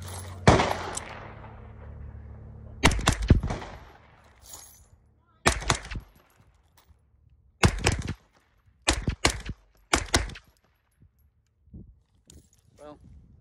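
Suppressed gunshots from a Freedom Ordnance FX-9 / AR-9 9mm short-barreled rifle fitted with a solvent trap suppressor ring out loud and close, mostly in quick pairs and triplets separated by short pauses.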